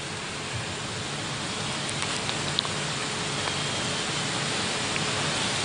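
Steady rain falls continuously, a dense even hiss of drops on surfaces with a few louder nearby drips, with no voices.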